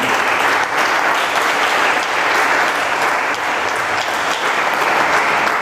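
Church congregation clapping for the Lord during a Sunday service, a dense, steady wall of applause sustained evenly from start to finish with no voices standing out.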